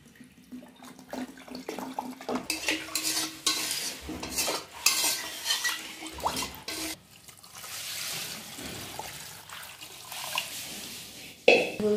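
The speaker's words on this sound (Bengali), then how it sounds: "এখন কড়াইয়ের মধ্যে একটু জল দিয়ে সেই জলটাই মাংসের মধ্যে দিয়ে দেবো" Water goes into mutton curry in a hot wok, giving bursts of loud sizzling, splashing and stirring that rise and fall for several seconds without voices.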